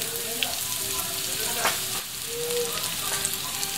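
Garlic sautéing in a pan while cooking laing, a steady close sizzle and crackle of frying with faint scraping stirs and light pops, no talking.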